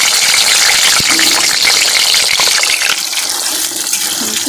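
Potatoes frying in hot oil for a duck meat curry give a loud, steady hiss and crackle, with a few clinks of a utensil over the constant sizzle.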